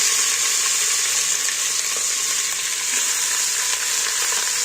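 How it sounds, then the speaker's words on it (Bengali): Spiced chicken meat sizzles in hot oil in a single pot, a loud, dense, unbroken hiss that runs evenly from start to finish with a faint crackle, and no talking over it. "এইবার আমি মশলা মাখানা মাংসটা তুলে দিচ্ছি তেলের মধ্যে"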